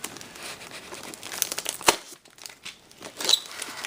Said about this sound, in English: we'll have to slice the tape here